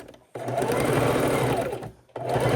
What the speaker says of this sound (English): we're going to stitch that right across